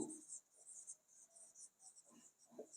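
Chalk or marker taps and scratches faintly against a classroom board in short strokes, with quiet breathing audible during a lesson.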